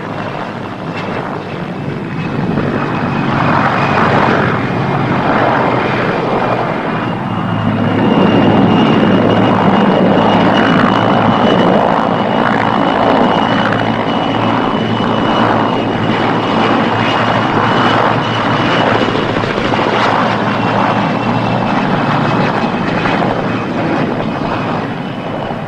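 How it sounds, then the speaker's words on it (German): Military helicopters and fixed-wing planes fly a 1979 East German air demonstration, their loud, sustained engine and rotor roar swelling and holding steady throughout, with wind noise and no speech. "den Genossen der Partei und Staatsführung die vielfältigen Kampf- und Manövereigenschaften der ihnen anvertrauten Hubschrauber und Flugzeuge zu demonstrieren"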